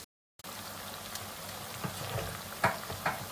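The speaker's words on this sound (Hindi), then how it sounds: "तो चलिए इन्हें गोल्डन ब्राउन होने तक हम लोग फ्राई करते हैं" Dahi bhalla deep-frying in hot ghee until golden brown, an even, close hiss of bubbling oil starting after a brief silence, with a few small pops and clinks.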